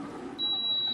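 Burglar alarm in a Chicago smoke shop during a break-in: a piercing, steady electronic tone starts abruptly partway through and holds unbroken over a dull background rumble.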